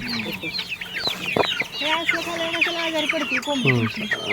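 Desi hens and roosters clucking in a pomegranate orchard, with a continuous busy chorus of overlapping clucks and calls from several birds close by, under faint voices.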